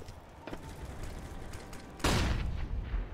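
Shots traded in a Counter-Strike match on Train, with a few faint scattered reports at first, then a sharp loud burst of gunfire near the end over a busy background.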